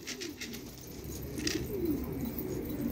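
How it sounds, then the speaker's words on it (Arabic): Pigeons coo softly and continuously in low, rolling throaty calls, fairly close over a faint background hiss, with no talking. "لا خلي الحمام تخور عليه هيك بفز"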